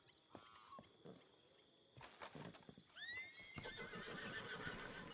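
A horse in a Wild West video game whinnies several times, with hooves clopping and shuffling nearby between the neighs, moderately loud with no talk.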